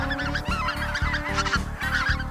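A big flight of specklebelly geese honks on a duck and goose hunt, a dense, loud chorus of overlapping calls with steady rhythmic clucking underneath, close and continuous without voices.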